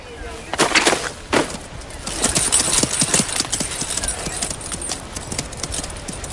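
Horse hooves clip-clop in an animated Western cartoon, a steady run of sharp, fairly close hoofbeats over a busy, noisy background, with a louder burst near the start and no clear talking.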